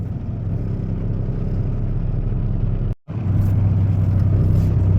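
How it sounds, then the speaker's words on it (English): A truck backing up to its trailer on a cold morning, giving a steady low engine rumble and idle drone that cuts out for an instant before resuming, close and continuous. "So over here trying to get backed up to our trailer"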